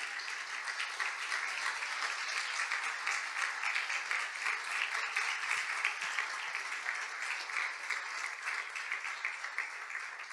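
A congregation at a missions-themed church gathering claps loudly for Christ, the many hands forming an even, unbroken roar that holds steady from start to finish.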